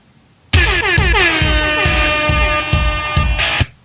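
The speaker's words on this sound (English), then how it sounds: "you want to add like an air horn" A loud, blaring air horn sound effect from Virtual DJ software, sustained for about three seconds, with pulsing repeated bursts layered in, cutting off abruptly.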